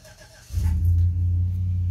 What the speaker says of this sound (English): So, starting my truck up.